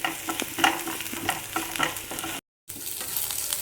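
Crushed dried red chillies fry in a pan with crushed shallots and garlic, a close, continuous sizzle broken by frequent scraping stirs, with a brief silent gap near the end.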